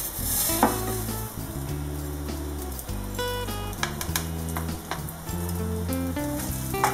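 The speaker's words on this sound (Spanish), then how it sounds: "Lo vamos a mover para que no se nos quede por ningún lado, porque va a sofreír totalmente dorado." Rice stirred and frying in hot oil in a pan, a steady close sizzle with repeated scraping stirs throughout, no talking.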